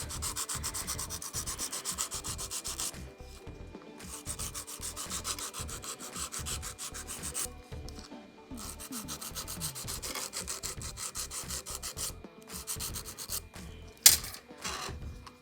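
Thick artificial nails being filed to remove burrs, a close, steady rhythmic rubbing and rasping of repeated strokes with brief pauses, ending with a small sharp click.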